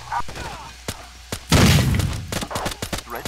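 A frag grenade explodes in Rainbow Six 3 Raven Shield as one loud, booming burst that trails off. Scattered sharp clicks and short game sounds come before and after it.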